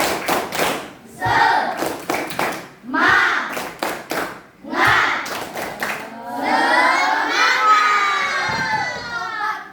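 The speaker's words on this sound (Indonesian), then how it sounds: "Kita tepuk semangat dulu." Schoolchildren in a classroom perform a rhythmic clapping chant, with bursts of claps and shouted voices in short groups, then a long loud unison shout of the class together.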